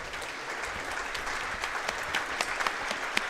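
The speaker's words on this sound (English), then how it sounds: "Please give a big round of applause to the officiating team working today's contest." At a girls' high school basketball game, a gym crowd gives the officiating team a steady round of applause, moderately distant, with a few sharper individual claps standing out.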